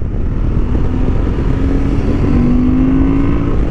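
A 2023 Honda XL750 Transalp motorcycle rides steadily on a racing track, its engine holding a low, constant drone with a faint rising tone and wind rush, close and loud with no talk.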